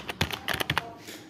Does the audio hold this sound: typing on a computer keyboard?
yes